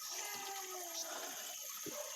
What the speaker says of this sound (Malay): inilah dia anak sungai yang mengalir